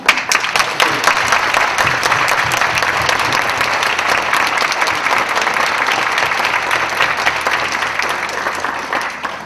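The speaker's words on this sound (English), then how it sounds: "would you please stand so that we may give you a round of applause?" A large audience at a community Martin Luther King celebration claps warmly for standing veterans and military service members, dense sustained applause filling the hall throughout.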